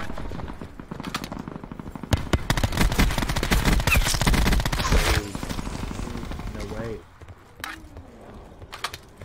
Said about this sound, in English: They're gonna get me with these pistols, bro.